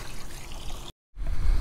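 Water trickles steadily from a hose into a caravan's tank at a York caravan park, a soft continuous dribble that cuts out abruptly, then resumes after a brief silence with a fuller rush.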